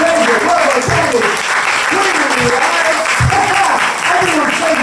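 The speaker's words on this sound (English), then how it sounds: "Let's give a big round of applause" Audience applause at an open mic night, steady clapping filling the room for nearly five seconds, loud and continuous, with voices mixed in underneath.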